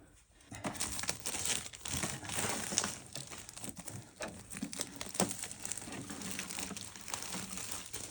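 Plastic sealing wrap on a new HP DeskJet 2755e all-in-one printer crinkles and crackles steadily as it is cut and pulled away. The rustling is close and continuous, with no talking.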